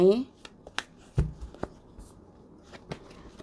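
Tarot cards riffle and flick close by in a quiet room, with a quick shuffle at the start followed by scattered soft card slaps and taps, and someone speaking faintly underneath.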